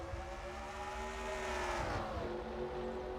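Race cars at Charlotte in a racing video game roar steadily, engine tones rising and shifting as the pack runs together, loud and continuous with no voice over it.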